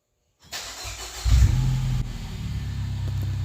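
After brief silence, a 2015 Mini Cooper Countryman S JCW with a new Borla exhaust cranks and fires on a cold start, roaring up loudly before settling into a deep, steady idle.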